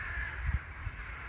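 Jackdaws calling outdoors, a few harsh caws carrying over a steady hiss of wind and distant noise.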